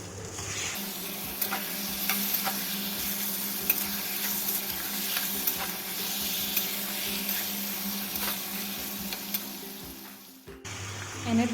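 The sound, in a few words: chicken meat frying and being stirred in a pan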